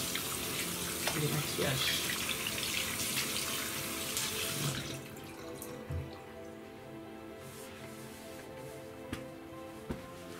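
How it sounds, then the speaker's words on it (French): Hands washed under a running bathroom tap before removing makeup: a steady gush of water for about five seconds, then it stops, leaving a few faint drips and soft handling sounds while someone speaks quietly. "il faut se laver les mains"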